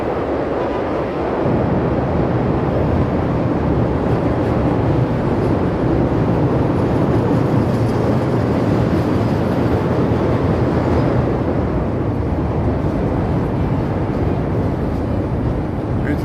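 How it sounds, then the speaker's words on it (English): A loud steady rumble of a Chicago Brown Line elevated train arriving at a Loop station rolls close by, with a continuous roar and rattle that holds through to the end, and no voices. "Here's a train coming."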